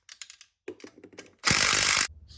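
A ratchet removing bolts from a Mitsubishi EVO VIII transmission: several quick, close clicks, a short pause, another clicking run, then a loud rasping burst of ratcheting and a few final clicks.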